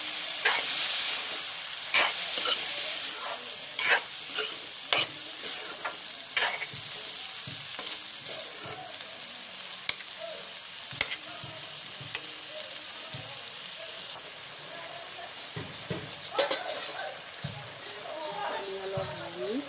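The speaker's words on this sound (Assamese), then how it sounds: "আমি অলপ কাট মাৰি থাকিব যাতে কেৰাহী লাগি নধৰে।" Egg paneer curry stirred in a wok, with a continuous frying sizzle broken by repeated sharp scrapes and knocks of the spatula on the metal, close and moderately loud, with no voices over it.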